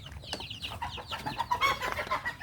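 Bangkok chickens cluck in a backyard coop, a busy run of short overlapping clucks and calls, fairly close and steady throughout with no talking.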